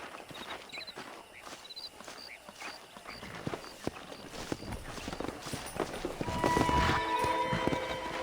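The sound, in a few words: horses' hooves in video game Red Dead Redemption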